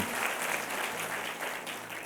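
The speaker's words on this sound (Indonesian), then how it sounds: "Boleh kasih tepuk tangan buat keluarga kita." An audience at a church sermon claps to welcome a visiting family, producing steady, fairly faint applause that continues throughout.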